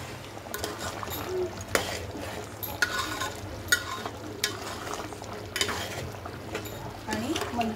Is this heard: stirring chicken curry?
yes